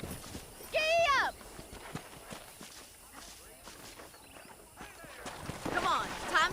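Horse hooves clip-clop in a steady walking rhythm in Red Dead Redemption, with a whinny near the start and another near the end, and a voice speaking partway through.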